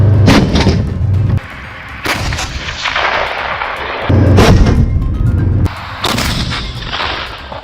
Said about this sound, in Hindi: अंग्रेजी अक्षर Z वाले टैंक यूक्रेन के बैटल ग्राउंड में आग उगल रहे हैं